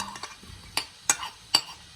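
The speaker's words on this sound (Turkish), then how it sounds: "Soğanını ekliyorum." Onion frying in clarified butter and olive oil in a pressure cooker for a meat and dried bean stew; three sharp metal clinks of a spoon against the pot punctuate a faint sizzle, with no talking.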